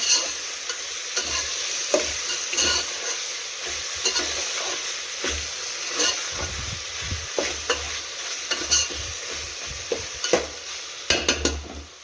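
Sliced potatoes with tomato and coriander are stirred in a pan for a home-style masala bhat, a steady sizzle broken by repeated scraping and clinking strokes of a spoon, close and clear with no talking.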